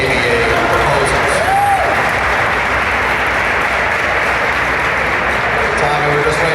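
Applause from an audience at a statehouse speech, a steady wash of clapping that runs unbroken throughout and is heard alone, fairly loud and close.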